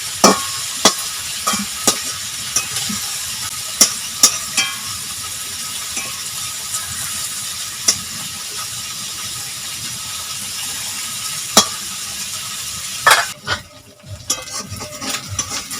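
Prawns frying in oil in a pan, a continuous soft sizzle under scattered sharp clicks and scrapes of a spatula turning them, with a brief louder stir near the end and no talking.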